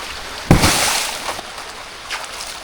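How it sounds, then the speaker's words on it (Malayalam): A homemade surfboard dropped into water, giving one sudden close splash followed by a couple of seconds of sloshing and lapping that trails off, with no voices. "ഇനി നമുക്കിത് വെള്ളത്തിൽ ഇട്ടൊന്ന് ടെസ്റ്റ് അടിച്ച് നോക്കാം."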